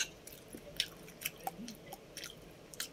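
Someone chews a breakfast of sautéed sardines with egg and onion, close and quiet, with soft wet smacks and small crunchy clicks at an uneven pace.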